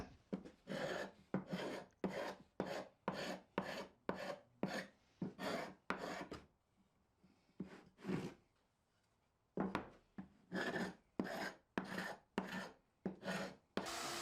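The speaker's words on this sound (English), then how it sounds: "this is going to get hit with the orbital sander over and over again." An orbital sander works an end-grain wooden cutting board in a run of loud, rhythmic rasping passes, breaking off into a quiet pause before the sanding picks up again, with no voices.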